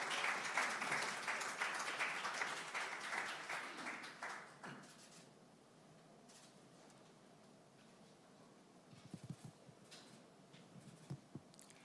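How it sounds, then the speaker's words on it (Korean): An audience at a Korean party presidential primary candidates' vision presentation claps loudly for several seconds, the applause thinning out and fading into scattered claps and quiet room noise. "큰 박수로 환영해 주시면 고맙겠습니다"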